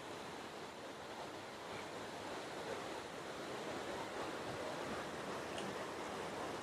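Steady wind rushes beside a riverside cooking spot, a dense, even roar buffeting the microphone throughout with no pauses and no voices.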